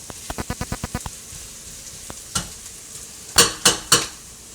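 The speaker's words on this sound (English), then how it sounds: "That little popping noise? We are definitely putting some color on these onions." Quick series of sharp pops and crackles from a hot pan, then a few louder bursts of sizzle, close and without talk.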